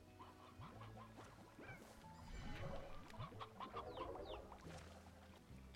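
Chickens in the video game Slime Rancher cluck and squawk in a steady, busy chorus, several birds calling over one another at close range with a faint electronic hum beneath.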